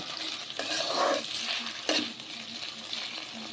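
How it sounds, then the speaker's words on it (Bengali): Vegetables stir-fried one after another in a pan for street-style egg chowmein: a loud, continuous sizzle with swells and scraping as the pan is stirred. "ঠিক এমনভাবেই সব সবজিগুলো একে একে ভেজে নেব।"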